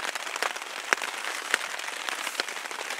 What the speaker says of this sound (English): Very heavy rains,